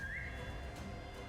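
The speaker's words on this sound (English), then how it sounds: "The whistle." One brief, faint rising whistle tone from the Limbus Company video game sounds over a busy game background.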